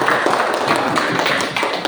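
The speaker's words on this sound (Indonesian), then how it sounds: "Kasih tepuk tangan semua." Classroom students clapping for a group that has just finished presenting, a short, brisk round of close hand claps from several people, continuous and fairly loud.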